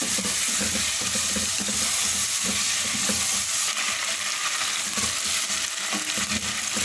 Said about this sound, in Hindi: चिकन को फ्राई करना है हमें कि इसकी रंगत सुनहरी हो जाए